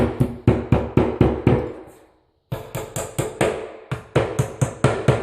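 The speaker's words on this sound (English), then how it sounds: "we're going to go back with a hammer and we're just going to tap all these all the way around" A hammer tapping nails flat along the edge of a carpeted floor being prepped for laminate: brisk runs of sharp, ringing knocks, about six in a row, a short pause, then two more quick series close by.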